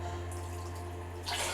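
Water poured over a baby's face during bathtime, a soft running splash under a steady low hum, swelling into a brighter, louder gush near the end.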